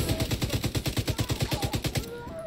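A long, steady burst of automatic fire from the player's own rifle in The Division 2, evenly spaced loud close shots in quick succession that stop abruptly near the end.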